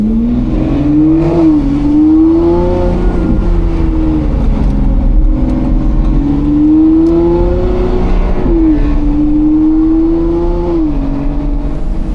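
A Lamborghini Revuelto fitted with a loud Gintani exhaust revs hard and steadily, its engine note climbing and falling through several loud rising sweeps, close by and alone with no talk.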